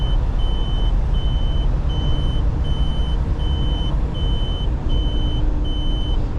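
A truck drones steadily along the road with a loud low rumble, and a faint electronic beep repeats at an even pace above it.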